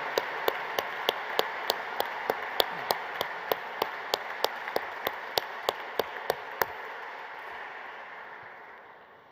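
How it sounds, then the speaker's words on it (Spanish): Applause from an audience at a public education forum with teachers' union representatives in Mexico, a dense wash of many hands with a few sharp, regular claps standing out, steady for several seconds before fading away. "les demos a todas y a todos un gran aplauso"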